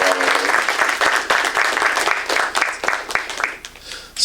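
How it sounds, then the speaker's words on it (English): Audience applause at an artist talk, a dense steady wash of many hands clapping that carries throughout, loud and close, fading slightly toward the end. "Can we just get a quick round of applause for Derrick Adams?"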